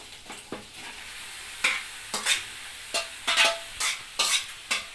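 Chicken is stirred through cooked onions in a pan, with a soft sizzle beneath a run of distinct scraping strokes that come quicker and louder in the second half. No voices are heard.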